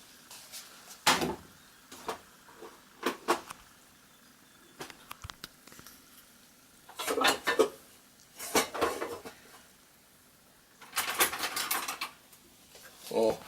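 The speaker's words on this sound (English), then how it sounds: "we're just going to bind this together" A wooden spoon mixes a thick Welsh rarebit mixture in a bowl, heard as bursts of scraping and knocking spaced by quiet gaps, some short and clipped, others longer and rougher, fairly close.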